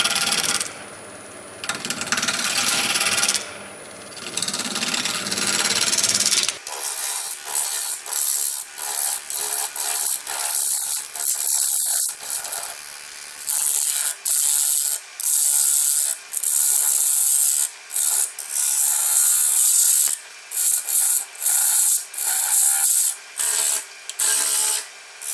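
A wood and epoxy pen blank spins on a lathe while a turning tool cuts and rubs against it, giving a loud continuous scraping whir broken repeatedly by short pauses as the tool is lifted.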